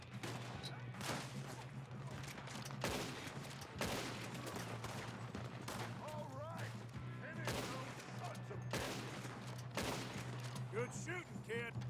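Shootout gunfire in Red Dead Redemption 2, sharp individual shots and short volleys at irregular intervals over a steady low hum, with voices talking between the shots.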